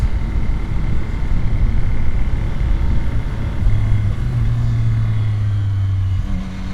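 A Yamaha R9 motorcycle fitted with a WRS windscreen, tail tidy and EvoTech crash protection, its engine droning steadily and loud while riding, with a low rumble and a smooth rising tone as the throttle is opened, plus wind noise.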